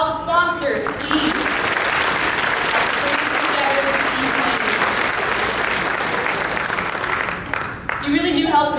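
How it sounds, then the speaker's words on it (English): Sustained applause from an audience at a business awards gala in Nanaimo, thanking the event sponsors, a dense even clapping for about seven seconds, with a voice speaking briefly at the start and end. "Big round of applause for all the sponsors, please."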